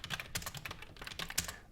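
Quick clattering keystrokes on a computer keyboard, close and fairly quiet, in fast irregular bursts with no voices.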